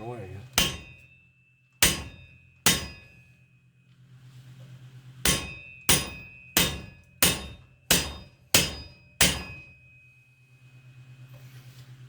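Loud, ringing metal hammer strikes on the front axle of a 2019 Kawasaki Teryx side-by-side, a few spaced blows followed by a faster series of evenly timed hits, each with a bright clang and short decay over a low idle hum.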